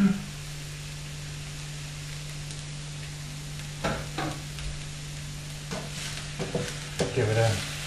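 Vegetables stir-frying in a pan, a low steady sizzle under a constant hum, broken by several sharp scraping strokes of a plastic spatula toward the end.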